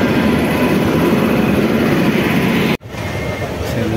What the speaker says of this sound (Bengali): আমাদের ট্রেন ঢুকে পড়লো ওই মাত্র